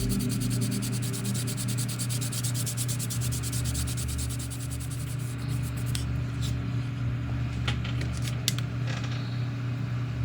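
A steady fine scratching of sanding off excess putty from a plastic 1979 AMT Star Trek U.S.S. Enterprise model kit, set over a constant low mechanical hum, with a few sharper scrapes near the end.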